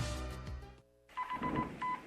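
A secret household telephone is dialed with touch-tone beeps: a quick run of tones, a brief silence, then a series of short, evenly spaced tones.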